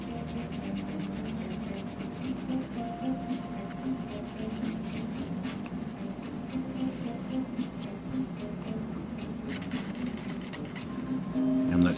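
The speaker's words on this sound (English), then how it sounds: "Now this one should polish up nicely. I mean, it should go mirror polish on it." Rubbing and polishing on the metal of a 1987 Castlevania NES cartridge, a steady, continuous scrubbing friction close up with faint background hum and no pauses, growing slightly louder at the end.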